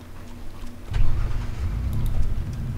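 A car engine in the DayZ video game turns over and settles into a loud, low, rumbling idle that rises and stays steady, with no voices over it.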